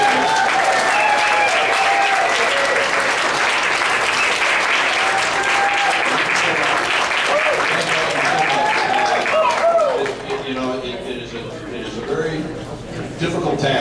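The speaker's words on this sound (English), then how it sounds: "Let's give a big round of applause for all of our candidates today." A crowd at a gubernatorial candidate forum applauds loudly and steadily, with cheering voices mixed in, fading slightly toward the end.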